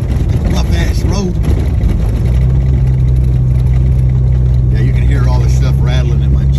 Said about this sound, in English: Rattling in my Jeep.